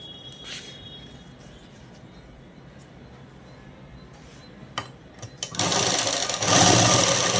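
A sewing machine stitches children's dress fabric; after a quiet stretch with faint clicks, the motor whirs up loudly and runs steadily through the final two seconds, close by.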